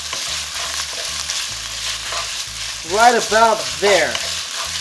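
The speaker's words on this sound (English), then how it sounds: "we're gonna stir fry this till it turns brown" Beef stir-frying in a wok with vegetable oil, a close, steady sizzle under a few utensil stirs; someone says a short phrase midway.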